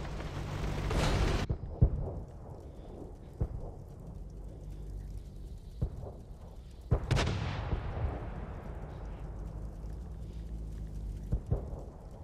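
Heavy artillery fire in a World of Tanks style tank battle with German and French tier 5 tanks: a few distant booms and sharp cracks roll out over a low rumbling bed, with one big blast trailing into a long decay.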